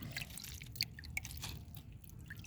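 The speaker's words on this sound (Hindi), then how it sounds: "अब इसमें मैं पानी का छिड़काव अच्छे से कर दूँगी धीरे धीरे" Water sprinkled slowly over freshly planted mint in a garden bed, with scattered soft drips and light patters landing irregularly on damp soil, close and faint, with no talking.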